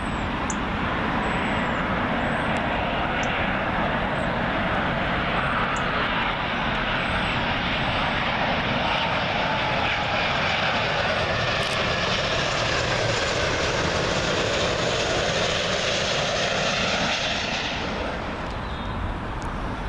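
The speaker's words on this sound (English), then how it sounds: "Now we're talking folks, big heavy American Airlines 777." A heavy American Airlines Boeing 777 arriving from Charlotte at Heathrow Airport gives a loud, sustained jet engine roar that swells and holds close by, then eases slightly toward the end, with no talking.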